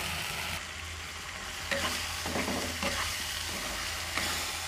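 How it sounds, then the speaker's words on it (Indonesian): A spice paste with turmeric is sautéed in a pan. It gives a constant, close sizzle, with occasional stirring scrapes and clinks over the frying, and no one talks. "Kita tumis sampai wangi, sampai benar-benar matang ya Bunda"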